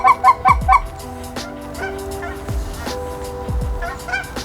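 Cackling geese honk in a field in northwest Oregon, a quick burst of several high calls at the start and a few more near the end, over wind and scattered thumps, with no talk.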